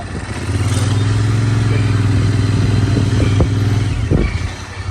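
A motorcycle rides toward a temple parking area, its steady mid-pitched engine hum droning close by for most of the run with a few clanks and a brief rev near the end.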